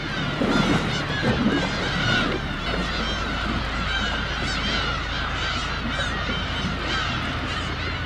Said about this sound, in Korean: 괜히 갈매기 울음소리가